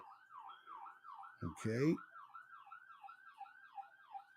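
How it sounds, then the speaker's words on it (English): An ambulance siren wails outside near a hospital, sounding faint and distant in a steady rising-and-falling cycle, with one short spoken word over it partway through. "And that's just an ambulance."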